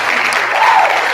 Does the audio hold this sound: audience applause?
yes